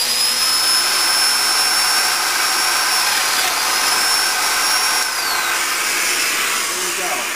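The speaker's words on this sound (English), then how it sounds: "make my marks, check my lineup, go ahead and turn on the machine." Domino joiner machine plunging to cut a mortise in the center of a veneered sideboard panel, a loud, steady high-pitched whine that runs the whole time with a brief shift in pitch midway.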